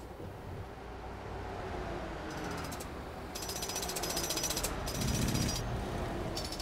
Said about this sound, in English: Wow, I can actually hear the construction workers.